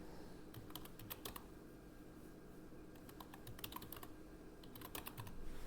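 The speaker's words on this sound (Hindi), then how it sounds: "यहाँ पर फिर से हम दूसरा मेल टाइप करेंगे" Soft, close keystrokes on a computer keyboard come in quick clusters with brief pauses as an email address is typed, with no voices.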